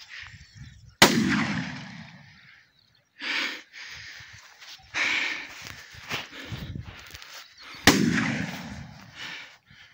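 Two sharp rifle shots fired while chasing a wild boar outdoors, each a sudden loud crack with a decaying echo, spaced several seconds apart, with rustling movement and brief voices between them.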